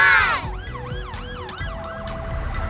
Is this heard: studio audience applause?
no